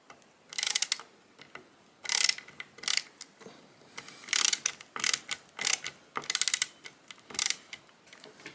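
A screw turned by hand into the action of a Swiss K31 rifle, in bursts of gritty metallic ratcheting and scraping, each lasting under a second and repeating about a dozen times, close and fairly loud with no talking.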